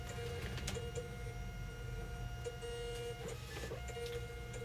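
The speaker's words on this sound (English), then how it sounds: "It's printing out properly." A printer running steadily with a continuous mechanical whir and rhythmic ticking of the print head, close and moderately loud with no talking.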